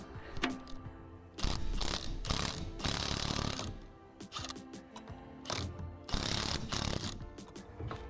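A jack ratcheting to lift an Aluma trailer: repeated bursts of loud metallic clicking ratchet strokes separated by short pauses, close up, with no voices.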